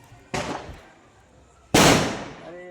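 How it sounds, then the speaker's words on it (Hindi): Two sharp bursts of an anar fountain firecracker set off on the ground during Diwali, each a sudden loud crack followed by a sustained hissing spray that fades, heard close by. "ये केवल इसमें अनार छूटेगा और कुछ नहीं है।"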